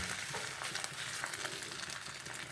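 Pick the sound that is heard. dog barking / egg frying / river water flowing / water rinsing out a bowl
egg frying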